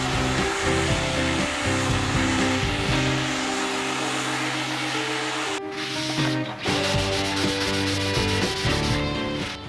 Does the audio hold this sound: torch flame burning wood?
yes